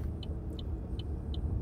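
Chevrolet Bolt electric car driving, a steady low road rumble inside the cabin with four faint, evenly spaced high ticks, like a turn signal, above it.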